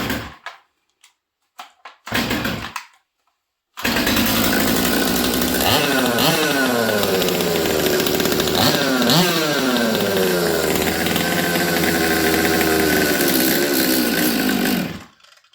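A Stihl MS200T chainsaw on choke: after a few short pull-start bursts and pauses, the engine catches and runs loud and close for about eleven seconds, its pitch wavering and surging roughly before cutting off.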